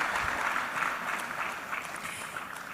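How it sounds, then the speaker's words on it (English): Steady applause from a conference audience at a West Africa capital market conference, thanking a presenter; a continuous, even clapping wash without voices over it. "Another round of applause for him."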